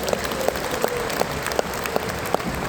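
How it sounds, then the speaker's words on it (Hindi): A large audience at an RCM 25th anniversary event in Patna claps together in a dense, steady burst of applause with sharp accents throughout. The clapping sounds fairly close and full, and no one speaks over it. "दोनों हाथ ऊपर करके एक बार अपने आप के लिए ताली भी बजा दीजिए"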